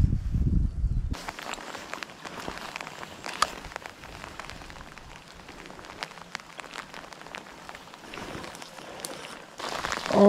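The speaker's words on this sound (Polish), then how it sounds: "No i znowu się rozpadało." Steady rain patters on the ground during a trout fishing trip, with soft footsteps walking through it throughout; a brief louder rustle opens, then the even hiss of rainfall continues alone.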